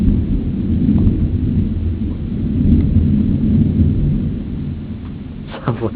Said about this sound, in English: That thunder has some oomph in it.